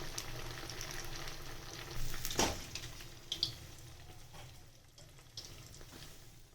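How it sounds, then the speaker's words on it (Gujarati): Sabudana vada deep frying in hot oil, a soft continuous bubbling sizzle with a sharp crackling burst and a few small pops, heard close up without talk. "ઉપરથી ક્રિસ્પી થાય ત્યાં સુધી આપણે તેને તળશું।"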